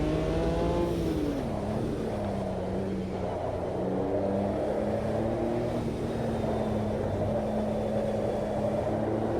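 A car engine drones and rises in pitch as it revs, a steady continuous roar heard close throughout.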